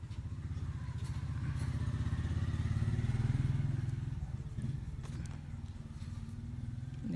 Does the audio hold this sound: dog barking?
no